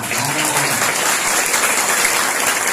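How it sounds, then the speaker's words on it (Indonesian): Audience applause, dense and steady clapping from a gathered crowd at a religious study gathering in Surabaya, sustained at close range without pause. "Tepuk tangan dong untuk Pak Lurah."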